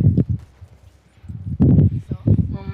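Hooves of a horse clip-clopping in the open-world Western game Red Dead Redemption 2, with several separate bursts of hoof thuds around stretches of talk from a player.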